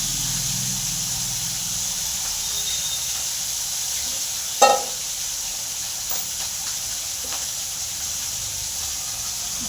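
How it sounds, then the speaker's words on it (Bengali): Fish frying in a pan gives a steady sizzling hiss that holds through the whole stretch, broken by a brief clatter near the middle and a fainter knock later, with no talk. "মাছ ভাজছি, দেখো বন্ধুরা।"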